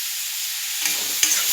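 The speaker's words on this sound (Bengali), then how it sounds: "এইভাবে নাড়তে থাকবে," Taro and pumpkin curry with ginger-cumin paste being stirred in a pan, a steady sizzling hiss with a couple of soft scrapes of the spoon near the end.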